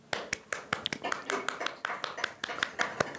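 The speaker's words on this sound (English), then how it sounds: "So big golf clap." A quiet golf clap at a startup pitch showcase in Stockholm: soft, sparse individual hand claps in a slow, steady rhythm, close and gentle.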